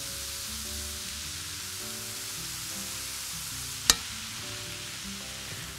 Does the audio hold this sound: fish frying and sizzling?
yes